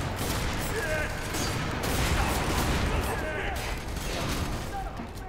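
Gunfire in F.E.A.R. 3 fills the whole stretch as dense, continuous rapid shooting. It sounds loud and close and has no clear breaks, and a player talks faintly underneath it.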